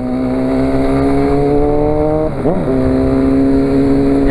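Motorcycle engine, a Honda CB 1000R four-cylinder or a Yamaha Fazer 250, idling loudly up close with a steady tone, then a quick blip of the throttle that dips and rises in pitch before settling back to idle.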